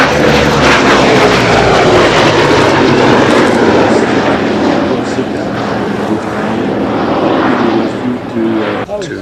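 A vintage fixed-wing propeller aircraft flies past at an air show, its loud, steady engine drone filling the whole stretch with a broad roar that swells slightly as it passes; a voice talks faintly beneath it.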